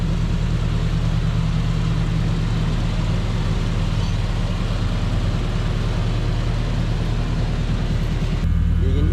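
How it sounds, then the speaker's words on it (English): Fuel pump of a Toyota van with a 7K EFI engine, whirring steadily alongside a low idling engine hum, constant and close throughout with a slight change near the end. "Hear the fuel pump kind of whirring away under there."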